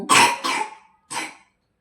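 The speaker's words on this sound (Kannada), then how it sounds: "ಅವ್ರಿಗೆ ತುಂಬ ಫೀವರ್ ಇದೆ ಅಪ್ಪ ನೋಡಿ ಕೆಮ್ಮು" A feverish person coughs close by, two quick rough coughs followed after a short pause by a third, with nothing else audible.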